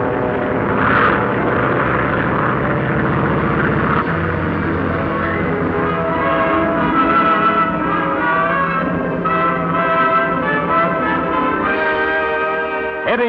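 Propeller airliner engines of a 1944 Transcan Airlines transport departing: a steady, loud droning roar with throbbing, pulsing tones that swell and hold throughout, with no voices.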